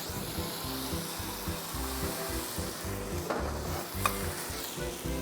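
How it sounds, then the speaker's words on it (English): Jasmine rice with sambal paste sautéed in a pan for sambal fried rice: continuous close scraping and stirring strokes over a soft, steady sizzle, with no voices. "All you need is just to saute the rice for 2 minutes."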